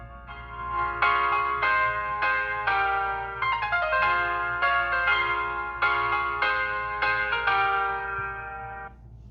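Chiming bell-like melody played through the loudspeaker of a Samsung Galaxy S21 phone with Dolby Atmos enabled, a bright, steady run of ringing tones with no talking.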